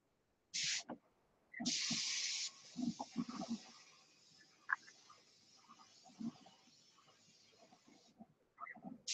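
An air spray gun running at 15 psi lays bright orange paint in steady hissing bursts, one short and one long, fading into a softer hiss while someone talks nearby.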